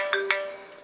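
Two bright synthesized marimba-style notes from an iPhone's default Marimba ringtone ring out near the start, then decay cleanly with no talk over them.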